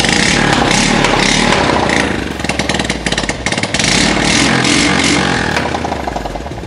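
A loud Honda Supra X 100 motorcycle engine with no exhaust runs close by, its raw, rattling idle steady throughout with a brief dip in the middle.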